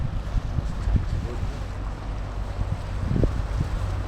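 A water bus boat on a Venice canal rumbles as a low engine drone under gusty wind noise, with small splashes and knocks of water near the hull.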